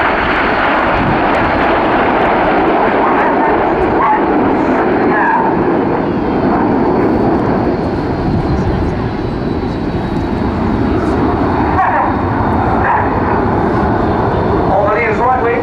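A fixed-wing aircraft passes overhead at the RIAT airshow with a loud, sustained engine roar that swells and fades over a long stretch, while an announcer talks over it.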